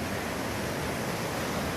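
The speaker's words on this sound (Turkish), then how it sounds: "Gördüğünüz gibi bu dere" A stream in Bakhchysarai runs with a continuous broadband rush of flowing water, steady and fairly close, with no voices or other sounds.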